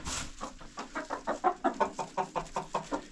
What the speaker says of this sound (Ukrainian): одна курочка певно вирішила, що хватить їй нестися. Сіла, сидить квокче, вставати не хоче